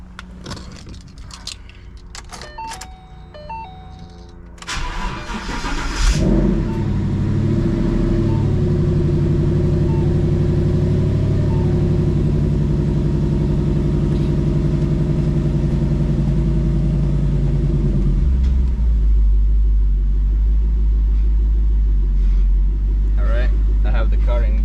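A Hertz Penske limited edition Mustang with a bent axle idles after some clicks and key rattles, then its engine fires up and settles into a loud, steady rumble with slight revving, close by.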